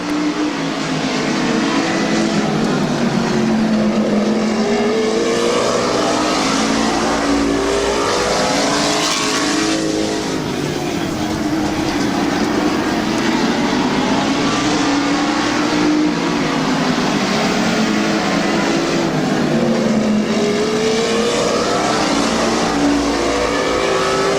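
Race cars roar around Midvale Speedway late in a race, with one car suffering carburetor trouble and dropping back. A dense, loud, continuous engine drone fills the track, with pitch sweeping up and down as cars pass and accelerate, and no talk.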